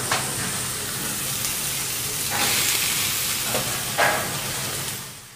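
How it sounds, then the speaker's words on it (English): Suckling pig meat placed fat side down in a hot pan sizzles loudly and steadily, with a few brief crackling bursts as pieces hit the fat, close by and without talk. "The meat goes in fat side down."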